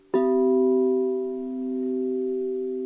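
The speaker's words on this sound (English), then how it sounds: "A fifth would sound like this." Two steady sustained tones from crystal singing bowls ring together in a pure, smooth fifth after a soft strike, humming evenly without fading much.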